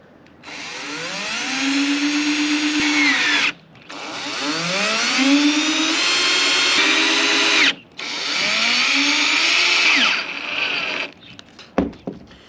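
A cordless power drill drives screws through the fiberglass roof of a camper van while a vent fan is installed. The motor whines loud and close in three long, rising bursts, then a few short clatters follow.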